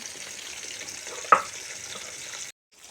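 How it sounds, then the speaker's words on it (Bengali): Pieces of rohu fish frying in hot oil, a soft continuous sizzle close by with one sharp spatter midway, then it cuts out briefly before resuming faintly. "আমি চার পিস পাঁচ পিস করে মাছ ভেজে নিব"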